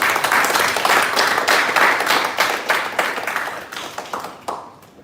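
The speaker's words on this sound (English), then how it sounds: "So please give a round of applause" A corporate event audience breaks into loud, dense applause that holds strong, then thins out, with scattered individual claps trailing off near the end.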